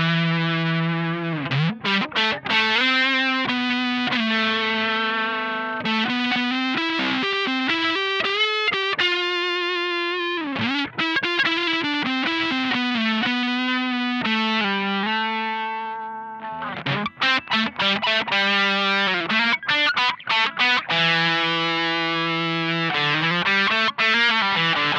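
Electric guitar lead lines run through amp-in-a-box overdrive pedals, including a Supro Drive, a Wampler Triple Wreck and an Analog Alien Rumble Seat. Sustained, distorted notes and bends sing out continuously and loudly for about twenty-five seconds, with no talking.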